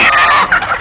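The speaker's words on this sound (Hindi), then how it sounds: "वो कार में एक मुर्गी बैठी है, उसे भी पकड़ लो" A chicken being chased and caught gives a strained, frantic squawk that rises and breaks into short clucks, loud and close in a brief burst.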